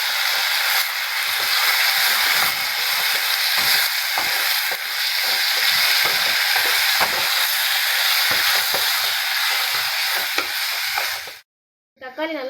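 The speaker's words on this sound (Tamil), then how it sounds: "இது கூட தக்காளி சேர்த்து அதையும் நல்லா வதக்கிக்கோங்க" Onions and tomatoes sauté in a pan for a Chettinad fish curry, giving a steady, loud, close sizzle and hiss with soft stirring scrapes throughout, then a sudden drop to near silence at the very end.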